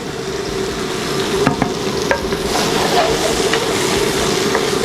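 Green onion, garlic and ginger stir-frying in a little added oil for a Chinese banquet dish, giving a steady, close, dense sizzle with a few sharp clicks of the utensil against the pan, with no talking.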